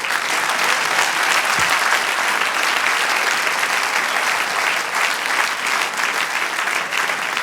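Congregation applause for the Lord inside a church, a dense, steady wash of many hands clapping at full strength throughout, with no voices standing out.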